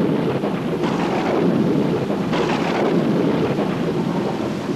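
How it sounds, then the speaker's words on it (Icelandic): Heavy rain pours down during a thunderstorm, a loud, dense roar that never lets up, with deep thunder rumbles swelling within it and no one speaking. "Það fór að hellirigna með þrumum og eldingum."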